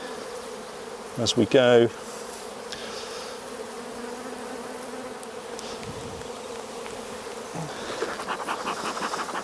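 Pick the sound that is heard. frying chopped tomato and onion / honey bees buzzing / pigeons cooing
honey bees buzzing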